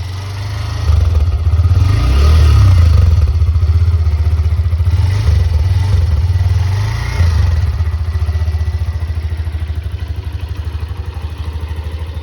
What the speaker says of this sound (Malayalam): വണ്ടിയുടെ എക്സോസ്റ്റ് നോട്ട് ഒന്ന് കേട്ട് നോക്കാം